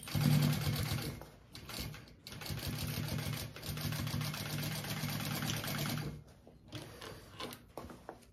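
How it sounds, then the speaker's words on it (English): A sewing machine runs in long stitching bursts along the bottom corner seam of a boxed bag, a close whirring rattle that pauses briefly and then resumes. "we're gonna sew that together down here"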